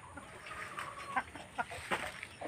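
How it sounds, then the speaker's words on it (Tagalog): Chickens cluck faintly outdoors, a few short clucks rising over a low ambient background. "Yung manok natin. Balik naman."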